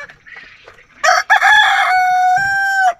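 A healthy rooster crows loud and close, one long drawn-out call, with a few softer clucks just before it.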